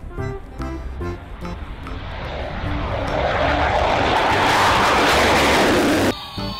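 A military airplane sound from a toy plays as a broad, swelling engine roar that builds loud and steady, then cuts off, following brief toy music tones.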